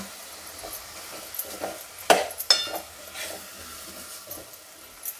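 Kasuri methi is stirred and heated in a pot of dalcha with pumpkin. A quiet sizzle runs throughout, with soft scraping and two sharp clinks of a utensil against the pot.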